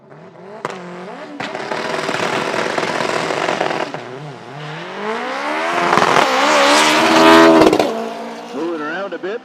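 A no-prep drag racing car at Toronto Motorsports Park revs hard and loud, its engine pitch sweeping up and down through several sharp rises before surging to a sustained scream near the end.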